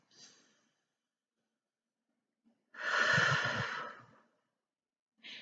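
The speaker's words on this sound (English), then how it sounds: "and really taking those deep belly breaths" A single deep belly breath, close and quiet: a faint intake, a pause of near silence, then one long, airy exhale that trails off, with no talking.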